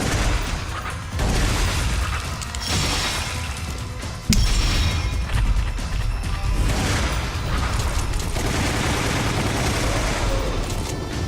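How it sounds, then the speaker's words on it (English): Shotgun fire in a video game: heavy booming blasts and crashes with clattering mechanisms amid dense game noise, one sharp loud shot standing out midway. "I guess we're gonna run out all the shotgun ammo we have instead of using anything else."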